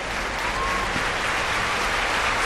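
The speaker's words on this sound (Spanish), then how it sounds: "Sube el rey y los príncipes a la tribuna mientras escuchamos los aplausos." Steady, dense applause from a large outdoor crowd at the Spanish Armed Forces Day parade as the king and princes take the stand, continuous and even throughout.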